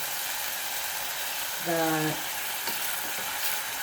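Carrots, tomatoes and onions stirred in a frying pan, a steady sizzle with a brief scraping clatter of the utensil midway.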